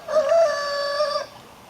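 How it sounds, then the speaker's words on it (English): A single rooster crows once, a clear, drawn-out call of about a second, close and loud, in otherwise quiet surroundings. "you can hear my rooster."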